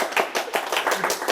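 Applause from a classroom audience, a dense run of quick overlapping hand claps lasting barely over a second, fairly loud and close.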